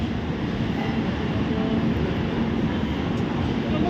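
KSR Bengaluru Express passenger train on an Indian line, a steady loud rumble and hum of the carriage rolling over the tracks, heard from inside with no breaks.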